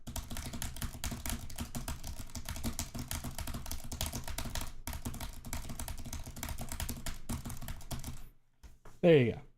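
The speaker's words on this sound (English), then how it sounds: "so that way you can just hear specifically the keys" Computer keyboard keys clacking rapidly and continuously during gaming, a fast, dense patter of close, moderately loud keystrokes that stops abruptly near the end, followed by a brief burst of voice.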